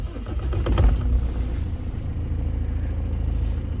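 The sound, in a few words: vehicle engine idling after start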